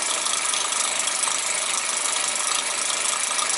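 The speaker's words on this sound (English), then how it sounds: "this little engine does run for what it is really well." Small Mammoth-type clone toy steam engine running on a garden railway, giving a steady, fast mechanical rattle and hiss that stays even and close throughout with no speech.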